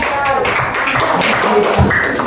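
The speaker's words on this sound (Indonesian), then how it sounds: "Boleh, tepuk tangan buat halo." Children clapping their hands in an elementary school classroom during a guidance lesson, a quick burst of close, sharp claps mixed with the voices of pupils and a teacher talking.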